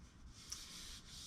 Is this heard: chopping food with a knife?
no